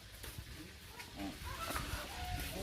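A chicken clucks a few times amid busy outdoor background noise at a hacienda, the calls short and moderately near.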